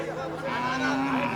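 A Khillar cow gives a drawn-out low moo at a Pusegaon cattle show during the under-one-year heifer class, rising slightly in pitch over a busy background of crowd chatter.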